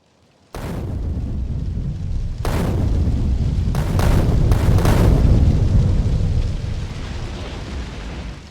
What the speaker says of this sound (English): that's my ship crashed, and there's fires and explosions going off everywhere